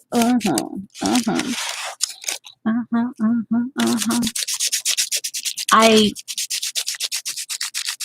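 Inktense colour is rubbed into an art page with quick, close scrubbing strokes that become a rapid, even run of short rasps, while a voice speaks over the start.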